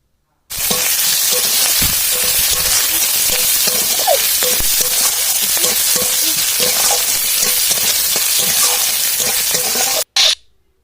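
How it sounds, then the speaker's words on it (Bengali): Onion, green chili and five-spice seeds frying in leftover fish-frying oil, a loud, steady close-up sizzle and crackle that runs continuously for about ten seconds before cutting off abruptly. "ওই তেলের মধ্যে আমি দিয়ে দিয়েছি পাঁচ ফোড়ন, আর তারপরে পাঁচ ফোড়নটা একটু হয়ে আসলে দিয়ে দিয়েছি পেঁয়াজ আর কাঁচা লঙ্কা"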